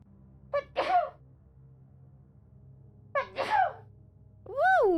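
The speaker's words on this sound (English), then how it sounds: "It just made me sneeze." Two sharp sneezes from one person, each a quick inhaled catch followed by a burst, spaced a few seconds apart in a quiet room, followed by a brief excited vocal exclamation.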